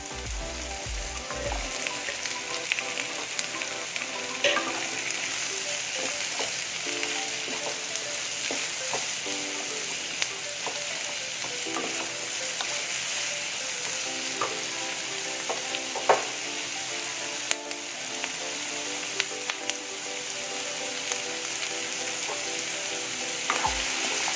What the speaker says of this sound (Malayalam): നല്ലൊന്ന് വഴറ്റി കൊടുക്കുക.